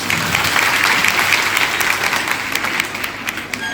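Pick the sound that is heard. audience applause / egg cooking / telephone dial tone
audience applause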